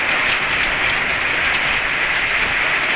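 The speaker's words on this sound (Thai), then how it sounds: "ฝนตกแล้วพี่น้องเอ้ยครับ" Rain falls steadily at home in a dense, even hiss, a continuous close wash of drops with no breaks and no voices over it.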